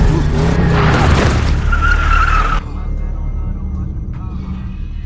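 A car skids on a road while hitting a jogger out on a morning run, a loud close tire screech with engine noise that cuts off abruptly halfway, leaving faint ambient hum.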